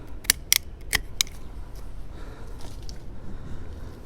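A handful of crisp snips from ratcheting Ironwood pruners cutting back a plant branch, four quick cuts close by, then quiet rustling.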